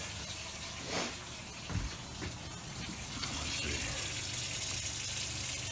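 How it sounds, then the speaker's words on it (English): An RV's onboard water pump emptying the fresh water tanks into the gray tanks makes a steady, close hiss of running water, with a couple of brief knocks early on and the flow swelling slightly toward the end. "I'm using the pump to empty the fresh water tank, and I'm filling my"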